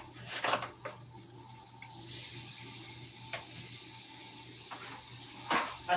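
Water steaming and sizzling in a frying pan with seasoned hamburger patties, a steady close hiss with occasional sharper crackles and spits.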